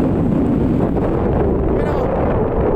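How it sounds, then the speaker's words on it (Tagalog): Strong wind buffets the microphone in a steady, loud roar that continues throughout with no break, at the top of Sealine Beach, Mesaieed, Qatar. "Lakas ng hangin."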